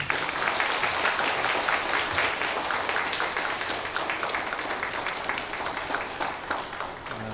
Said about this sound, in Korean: 우리 강사님 나오실 때 박수로 환영하겠습니다.